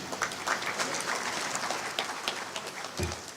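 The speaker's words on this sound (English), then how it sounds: "let's applaud him one more time" An audience applauding a government representative at a national science and technology council meeting, sustained clapping from many hands in a hall, fairly loud and even throughout.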